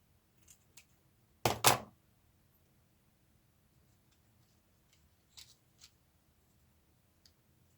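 Scissors cutting a small piece of paper for an envelope: one sharp double snip near the close mic, followed by faint scattered paper rustles and ticks in a quiet room.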